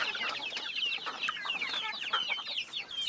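Chickens and chicks in a farm coop cluck and peep continuously in an overlapping chorus, fairly quiet and at a moderate distance.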